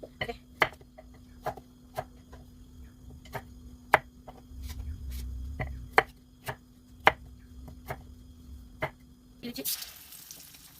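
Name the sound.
chopping vegetables with a knife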